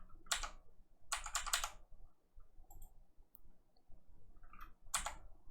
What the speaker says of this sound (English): Let's type George